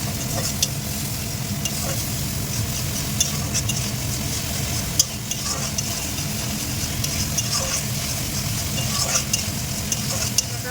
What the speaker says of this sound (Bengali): আমি আগে মশলাটা বানিয়েছিলাম সেটা দিয়ে দিলাম। এবার ভালো করে কষে নেব।